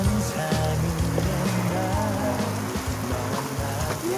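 Steady rain falls as a broad, even hiss across the whole stretch, with music playing underneath throughout.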